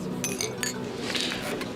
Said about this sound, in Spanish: Salud.